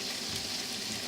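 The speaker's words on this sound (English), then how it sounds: "while my sausage and everything is cooking" Sausage fries in a pan for pasta salad, giving a soft, continuous sizzle and crackle at low level, with no talking.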